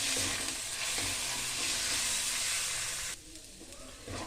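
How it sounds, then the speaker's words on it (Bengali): Chili, cumin, coriander and turmeric powders fry in a pan for a katla fish curry, a loud, dense sizzle that suddenly drops to a quieter hiss partway through, with no talking. "লঙ্কা, জিরা আর ধনে পাউডার মিশিয়ে নেব। একটু ভালো করে ভাজতে থাকবো।"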